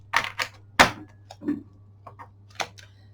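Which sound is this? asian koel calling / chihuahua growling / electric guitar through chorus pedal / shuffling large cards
shuffling large cards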